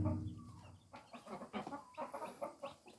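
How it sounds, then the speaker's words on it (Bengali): Backyard chickens being fed rice grains by children, giving soft, close clucks in a quick irregular series, fairly faint, with no talk over them. "অন্য অন্য মুরগি খাইতে আসতেছে"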